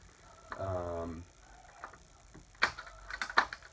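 Plastic arms of a HeliMax Form 500 drone fold down with a ratcheting click, followed by a few sharp separate clicks as they snap into place, close and fairly quiet.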